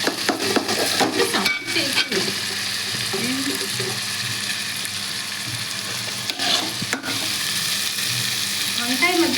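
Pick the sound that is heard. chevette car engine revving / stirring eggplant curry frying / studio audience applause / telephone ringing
stirring eggplant curry frying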